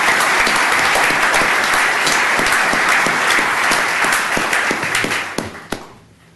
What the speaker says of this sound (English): Let's give the 20 years a round of applause.